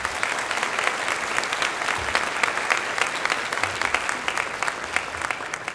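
A ceremony audience gives police officers and recruits in training a round of applause, a steady, full burst of many hands clapping that carries evenly through the whole stretch with no talk over it.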